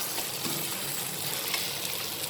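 Masala sautés in a pan for a spiced pointed gourd dish, giving a steady, soft sizzle that runs evenly with no voices over it.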